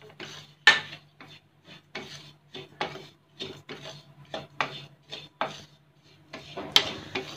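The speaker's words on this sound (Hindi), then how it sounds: "अब मैं इसमें डाल रही हूँ कोकोनट पाउडर और अब हम इसे धीरे धीरे मिक्स करेंगे" Coconut powder being stirred into ghee in a pan, giving a steady series of short rasping scrapes, about a dozen strokes in an even rhythm, close and fairly quiet.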